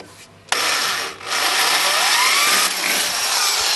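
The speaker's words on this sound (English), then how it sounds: "what I'll do now is I'll drill it with the pilot hole and then open it up" A power drill bores a pilot hole through a metal bracket for a pedal-powered washing machine conversion, starting with a brief whir, then a steady loud high-pitched grind that holds with a short dip as the bit bites.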